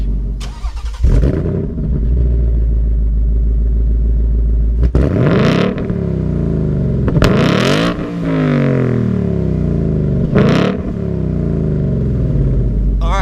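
A 2018 Ford Mustang GT with the Performance Pack, MagneRide and active exhaust set to track mode, rumbling loudly at idle and then ripping out a series of sharp, deep revs, each one snapping back down to a heavy burble.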